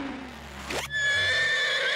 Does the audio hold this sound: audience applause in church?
no